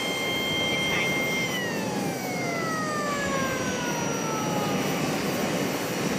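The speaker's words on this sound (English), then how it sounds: "now they're shutting that APU down." An airliner's auxiliary power unit whines loudly and steadily at an airport ramp, its tones sliding downward as the unit spools down, over a constant roaring wash of noise.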